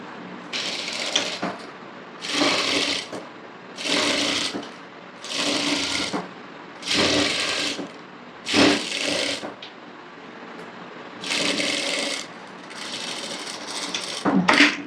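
Sewing machine stitching a blouse neckline seam at a half-inch allowance: about eight evenly spaced, close bursts of rapid mechanical stitching, each lasting roughly a second, with short pauses between them.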